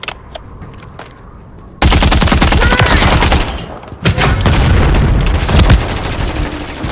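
Rapid automatic gunfire in Call of Duty MW3 on PS5, a quiet stretch of scattered shots giving way to loud sustained bursts with a brief pause before another heavy volley.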